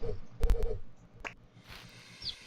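A baby bird in the video game Fly Like A Bird 3 gives a couple of quick tonal calls, followed by softer game sounds and a faint high chirp, with no talking.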